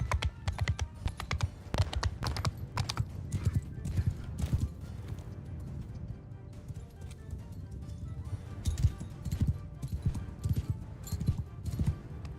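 Horse hooves clip-clop in the video game Bannerlord, rapid irregular clattering steps near and clear, with a horse whinny and soft keyboard typing mixed in.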